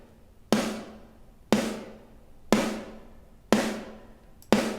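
Snare drum hits with the mid frequencies boosted for extra crack in a rock and metal production, five sharp evenly spaced strikes about a second apart, each ringing out with a bright decaying tail, loud and alone.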